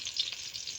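Eggplant frying in a pan gives a continuous bright, airy sizzle at moderate level, fairly even with slight fluctuations and no talking.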